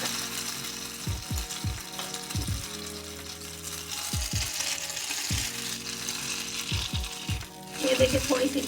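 Egg-dipped bread lies frying on a hot tawa for French toast, giving a low steady sizzle beneath repeated soft knocks and scrapes of a spatula, with a brighter crackle near the end.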